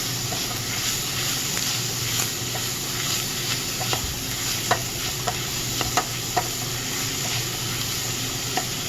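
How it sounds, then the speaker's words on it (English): Diced carrot sautéing in a hot pan for beef lasagna, a steady close sizzle broken by sharp clicks of a utensil stirring and tapping against the pan at irregular moments. "And we'll let this saute here for another minute."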